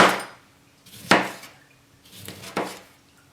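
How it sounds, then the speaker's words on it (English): A knife chopping through a lemon on a cutting board, three sharp knocks spaced about a second apart, each with a brief wet crunch, close and clear with no talking. "Now the other lemon, I'm going to cut that one."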